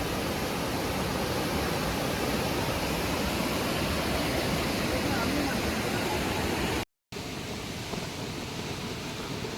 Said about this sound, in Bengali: উচ্ছল নদীর কলকল শব্দে